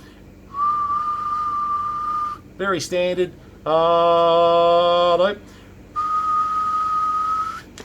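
Someone whistles a steady tone, briefly speaks, then whistles again with a richer, louder note and a final steady whistle, close and clear.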